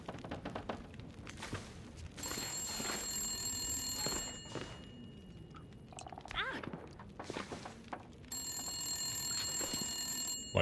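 An old telephone in the video game The Long Dark rings in a repeated electronic trill. Two long bursts stand out over a murmuring background with scattered thuds and footsteps.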